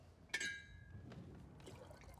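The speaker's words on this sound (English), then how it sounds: "Now pour the tea back into the pot." Tea is poured from a cup back into a teapot; a sharp clink of china starts it, followed by a faint, steady trickle of liquid in a quiet room.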